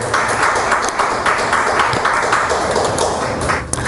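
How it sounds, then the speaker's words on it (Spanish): Steady, dense applause from a large church congregation, continuous and loud throughout without pause. "Denle un aplauso fuerte al Señor Dios Todopoderoso."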